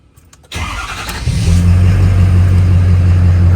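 Ford F250 with a 6.7L Powerstroke diesel engine cranking and firing up: a short burst of starter noise, then the engine catches and settles into a loud, steady low diesel idle, close by, with no talking.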